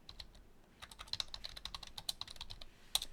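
Fingers typing a docker compose command on a computer keyboard: a quick run of light, close key clicks, sparse at first and then denser, with one sharper keystroke near the end, quiet and without any voice.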